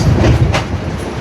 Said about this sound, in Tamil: இன்னும் ஒரு எக்ஸ்பிரஸ் ட்ரெயின் ஒன்று திடீரென்று வந்து விட்டது.